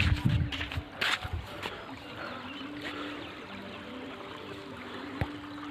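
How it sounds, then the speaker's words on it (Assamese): A river flows over pebbles outdoors with a steady, moderately loud rushing wash. A few brief knocks come near the start, then the water noise continues evenly to the end. "আৰু এইফালে একদম নদী বৈ গৈ আছে, বিন্দাছ ঠাণ্ডা।"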